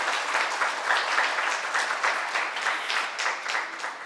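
Steady applause from a seated audience at a workplace diversity talk, even and moderately loud clapping with no voices over it.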